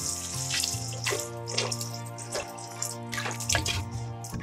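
Water pours steadily into a cooking pot, 4.5 cups measured out for kuska plain biryani, with a continuous splashing, trickling flow and small bursts of drips throughout, close and moderately loud with no talking.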